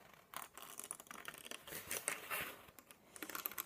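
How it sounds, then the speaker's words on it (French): Scissors cut paper for an artist trading coin pouch craft, making faint, close, crisp snipping and rustling sounds in short irregular bursts over a very quiet background. "Juste prendre la paire de ciseaux et on découpe."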